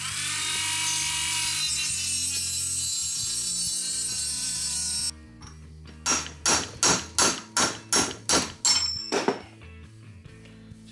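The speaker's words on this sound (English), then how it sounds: "Chisel keeps slipping, so I'm going to cut a little groove." Metal chisel struck by a hammer to cut a groove in a seized part of a Porsche 914 brake assembly: about ten sharp, evenly spaced ringing blows close up, following a steady broadband mechanical noise.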